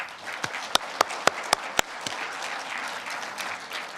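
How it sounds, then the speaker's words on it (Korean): A small crowd applauds, with several sharp individual claps standing out at first before the clapping thins into a softer patter. "다 함께 큰 박수로 시작하도록 하겠습니다"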